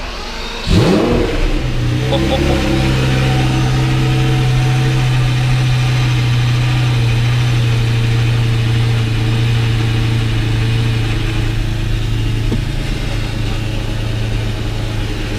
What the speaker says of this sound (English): we'll just let it turn over a little bit before we give it any revs